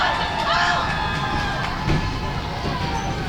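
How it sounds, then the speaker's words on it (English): A wrestling arena crowd cheers for a heavyweight title match, a loud continuous roar of many voices with shouts and whoops, steady throughout and close. "Listen to these fans cheer for Steiner."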